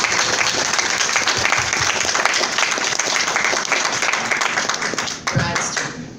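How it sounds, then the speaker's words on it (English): Loud, sustained applause from a crowd at a furry convention closing ceremony, dense clapping throughout that thins slightly near the end. "Round of applause for all the dealers, please."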